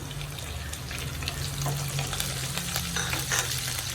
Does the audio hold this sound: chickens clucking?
no